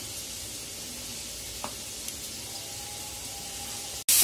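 Chicken pieces frying in a pan over high flame give a steady, loud hiss that runs throughout, broken by a brief clatter near the end.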